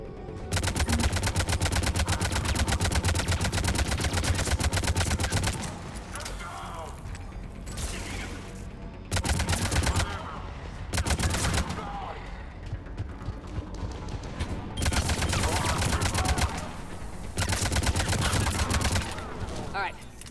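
Rapid bursts of automatic gunfire in Mass Effect 3 come in long stretches with short pauses, loud and close, while a voice talks over them now and then.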